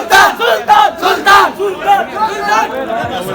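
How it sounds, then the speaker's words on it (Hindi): A crowd at a college fun gala at Superior College Multan cheers and shouts in loud rhythmic bursts, close and energetic, with chatter mixed in. "A huge round of applause."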